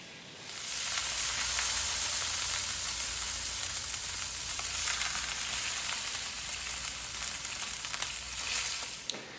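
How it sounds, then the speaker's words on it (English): Pork tenderloin sears in a hot pan with a steady, bright sizzle and hiss that holds evenly throughout, close and fairly soft. "while we wait for the tenderloin to brown"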